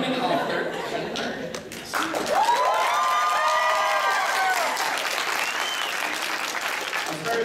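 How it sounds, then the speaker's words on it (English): An audience at an author panel claps steadily with cheers and whoops mixed in, while voices shout and laugh throughout the sustained applause. "I like this deal where I just gotta sit here and you guys clap"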